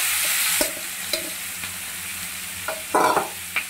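Meat added to a hot pan with bay leaves and spice, frying over lowered gas flame: a steady sizzle with several spatula scrapes and stirs, one louder clattering stir near the end, no voices.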